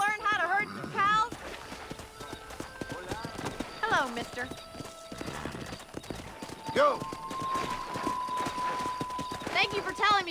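A horse clip-clops and whinnies in Red Dead Redemption, with close hoofbeats and several loud neighs rising over a voice speaking brief commands and a low game soundscape.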